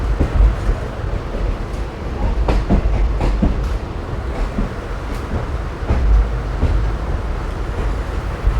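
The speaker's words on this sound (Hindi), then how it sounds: "तो ट्रेन यहाँ से लेफ़्ट पे कर्व करेगी।" Passenger train running through a left-hand curve on the approach to the large yard at Roza Junction, on the Shahjahanpur–Sitapur line: a steady rumbling roll with faint clicks of wheels over rail joints, close and continuous, with no voices.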